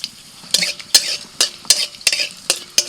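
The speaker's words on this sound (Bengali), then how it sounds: "ফোড়নে দিচ্ছি কালো জিরে দুটো শুকনো লঙ্কা" Nigella seeds and two dried red chillies crackle and sizzle in hot tempering oil, punctuated by a rhythmic series of sharp spoon-scraping stirs against the pan.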